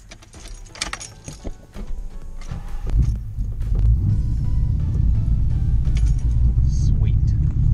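Ford Mustang SN95 engine cranking and catching, building to a deep steady rumbling idle close by, after some keys and handling noise at the start.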